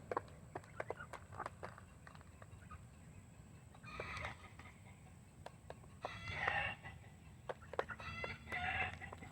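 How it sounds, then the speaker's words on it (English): Backyard chickens clucking close by, with intermittent bursts of cackling and clucks over a quiet background and sharp scattered ticks. "there goes the chicken choir. They're starting up."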